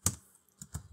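A few separate keystrokes clack on a computer keyboard as Java code is typed, quiet and close-miked, with a sharp single tap followed by a pair of clicks and no voice.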